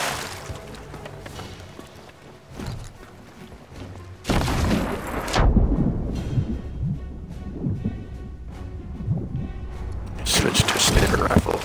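Heavy cannon fire in a naval video game battle, with cannonballs booming and slamming into the ship as loud, near explosive blasts and rumbling impacts in irregular bursts, while a voice talks over the action.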